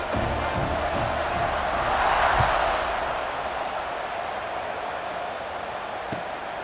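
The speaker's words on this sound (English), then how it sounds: "this crowd is feeling themselves after that last drive" A stadium crowd in a college football video game roars steadily during a kickoff, a broad wash of cheering that swells briefly and then settles to a sustained hum.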